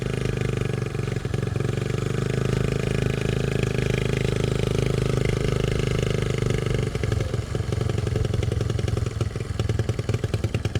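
Motorcycle engines rumble and rev loudly and steadily throughout, with clattering mechanical noise as bikes pass close by on a flooded road in Bulacan, Philippines.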